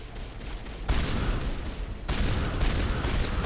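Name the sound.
shotgun firing in Mass Effect video game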